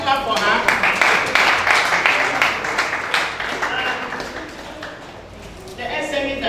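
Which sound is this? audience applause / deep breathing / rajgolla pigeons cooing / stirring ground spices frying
audience applause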